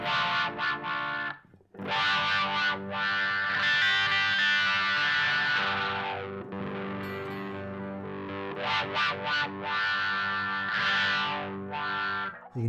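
Distorted electric guitar played through a Dunlop 535Q wah pedal, bursts of chords and sustained notes sweeping in tone with a peaky upper register and a hint of feedback, loud and close with brief gaps.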